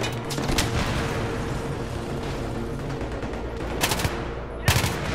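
Burst-fire weapon in the video game Battlefield 3, a dense stretch of loud, continuous battlefield gunfire with sharp louder bursts standing out near the end, nearby and filling the mix.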